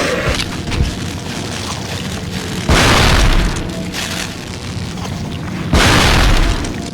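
Grenade launcher blasts in the Cold Fear video game: two loud, broad booming explosions about three seconds apart, each rumbling for under a second over a busy, noisy game soundscape.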